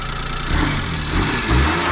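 A car engine runs close by, with a couple of short throttle blips rising and falling over an idle, loud and without talk.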